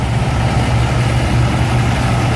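A heavy Massey Ferguson 1130 diesel tractor engine idles steadily nearby, a low rumbling throb with a constant mechanical drone and no talking.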